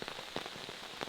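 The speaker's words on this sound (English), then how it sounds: "Dusk fell as the rain continued pattering." Rain patters steadily at dusk in a mountain campsite in Cumberland Gap National Park, a soft continuous hiss with scattered nearby drops tapping on a surface.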